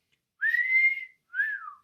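A lecturer imitates a wolf whistle: a rising whistled note, then a shorter falling one, loud and close, alone with no speech.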